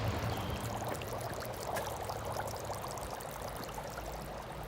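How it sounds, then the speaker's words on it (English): Dry ice bubbling in steaming hot water, a steady churning, pouring-like gurgle with fine fizzing crackle, continuous and moderately close, with no talk. "Dry ice in steaming hot water."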